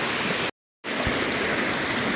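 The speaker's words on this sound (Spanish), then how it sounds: "Si ven un río que cruza por el medio del camino, es este." A river stream crossing a dirt road near Yala lagoon rushes in a steady, dense hiss of flowing water heard up close, interrupted by a brief moment of total silence before resuming unchanged.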